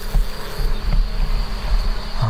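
Bees buzzing inside a package of bees, a dense steady drone with a constant hum, loud and close throughout, no voices.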